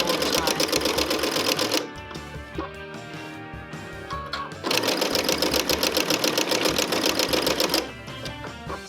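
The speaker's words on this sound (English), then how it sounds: "So you can see each time I'm sewing backwards and forwards" A sewing machine runs a zig zag stitch on raw edge applique, in two steady, fast-rattling bursts at an even speed, separated by a quieter pause of a few seconds.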